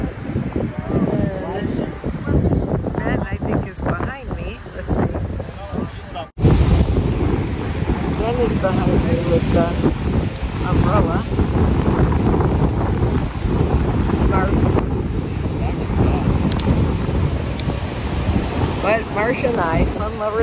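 Strong wind roars and buffets the microphone continuously, with water and waves faintly underneath and a voice talking at times.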